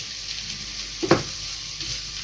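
Zucchini frying in a pan makes a continuous bright hiss, with a single sharp utensil tap partway through and no voices.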